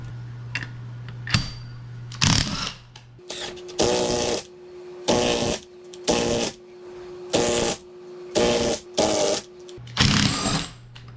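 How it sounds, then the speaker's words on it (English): An impact wrench pushes a bearing off a differential pinion, firing about eight short, loud rattling bursts in a regular rhythm with brief quiet gaps, close up. "just going to get our impact on here, and it should push the bearing right off, hopefully."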